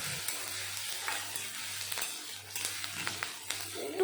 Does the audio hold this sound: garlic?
yes